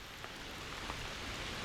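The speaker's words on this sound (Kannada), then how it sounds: "ಮಳೆ ಬರ್ತಾ ಉಂಟು, ಪಿರಿ ಪಿರಿ ಪಿರಿ ಪಿರಿ ಅಂತೇಳಿ." Light drizzling rain falls steadily during a ride, a soft continuous hiss with scattered faint drop patter throughout, no voices.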